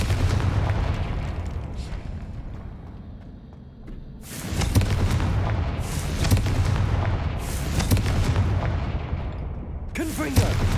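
Confringo blasting spells burst in a Hogwarts Legacy video game battle: several loud booming explosions arrive in sequence, each with a sharp onset and rumbling decay, the last one crackling, over a continuous low background rumble.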